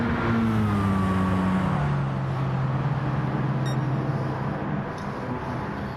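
Racing car engines in Gran Turismo 7 during Mk1 Golf races, with a Citroen among the field: a loud, steady engine drone whose pitch slides and shifts as the cars run, with no voices.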